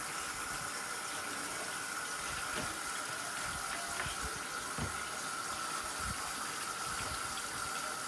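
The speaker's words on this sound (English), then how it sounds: "I only run my dishwater halfway." Water from a kitchen tap runs steadily into a sink to fill it halfway with bleach-sanitized dishwater, a constant close gush with small splashes and no talking.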